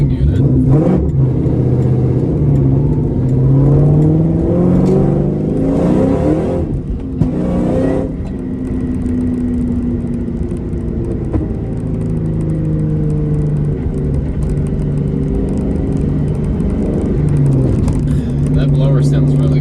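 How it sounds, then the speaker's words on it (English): Supercharged Ford Mustang 5.0 Coyote V8 with a VMP blower drones loudly and steadily, swelling through a couple of revs with whine on top, under occasional talk. "That blower sounds really good."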